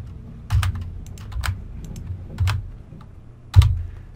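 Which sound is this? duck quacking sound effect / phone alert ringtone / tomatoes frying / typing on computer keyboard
typing on computer keyboard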